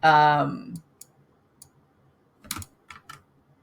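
Computer keyboard being typed on, a few soft scattered key clicks after a brief voice, sparse and close in a quiet room.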